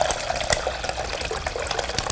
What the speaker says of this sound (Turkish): Sütün devamını da ekliyorum.